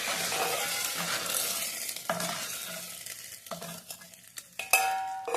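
Green chili thecha is tipped into chakvat wild greens cooking in a pan, followed by several distinct scraping stirs over a soft sizzle, close and uneven, with a louder clatter near the end.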